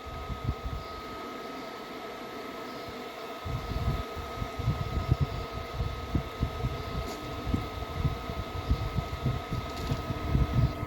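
A blower motor runs inside an Ariston washing machine during an F15 error repair, a steady low hum with a faint tonal whine. A rougher, louder rumble joins partway through and continues to the end.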